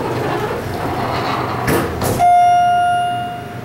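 Schindler hydraulic elevator at a Hampton Inn riding down: steady low cabin rumble and whoosh, a couple of door or cab clunks, then a sustained tonal chime or hum that slowly fades.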